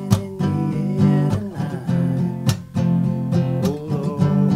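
An acoustic guitar strums full bar chords of a song in a rhythmic pattern with heavy, ringing bass strings, close and fairly loud.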